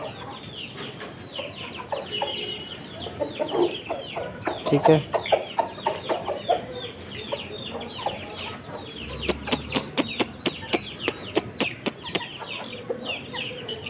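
Chickens and a rooster clucking close by as they peck at flour in a cage, a busy run of irregular clucks followed by a rapid series of sharp pecking taps, with someone briefly speaking.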